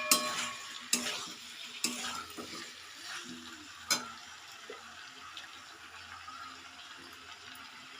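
Vegetables with a ground cumin-coriander paste stirred in a frying pan, several sharp metal scrapes and knocks early on over a soft, steady sizzle that settles into gentler frying, close and without speech.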